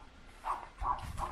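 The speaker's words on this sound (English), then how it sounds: "That's my dog making tons of noise." A pet dog gives two or three quick barks, a little distant and moderately loud, over quiet background noise.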